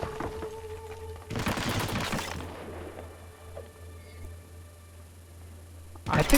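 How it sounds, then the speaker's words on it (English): Gunfire in the video game Hitman Absolution: a rapid burst of shots around the middle, over a low steady hum, with scattered thuds and another burst at the end. "I am shooting straight through him"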